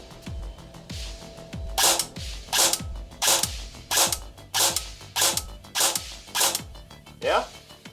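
Airsoft gun with a replaced air seal and piston but its standard motor and gears, cycling in about eight rapid mechanical bursts, each a sharp whirring clack, close and loud, followed by a short trailing whine.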